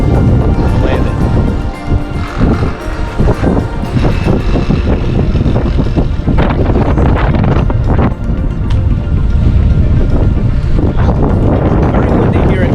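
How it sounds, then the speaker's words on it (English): Strong, gusty wind buffeting the microphone at Columbia County airfield after a Mooney landing, loud and continuous with rumbling bursts and some background noise. "Very windy here in Columbia County."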